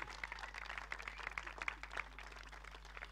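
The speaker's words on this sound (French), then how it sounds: "j'aimerais vous inviter à les applaudir pour leur souhaiter la bienvenue" Wedding guests applaud the newlyweds in a steady, moderately quiet wash of clapping that runs throughout, with no voices over it.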